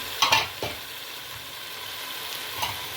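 Tomato paste sautés in a pan for a Malatya-style chicken meatball stew, with a couple of sharp scraping stirs at the start and then a soft, steady sizzle.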